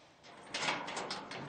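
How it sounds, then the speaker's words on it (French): A padlocked door in Timbuktu is opened, with a scraping, rattling creak that rises and lingers in several uneven bursts, close and moderately loud, with no voices. "Une première porte cadenassée"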